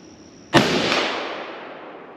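A single loud .257 Weatherby Magnum rifle shot fired from a shooting bench, a sharp crack followed by a long, broad echoing decay.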